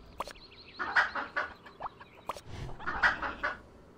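A chicken in the School of Dragons video game clucks up close in two short bursts of rapid, choppy clucks separated by a brief pause, with no voices over it.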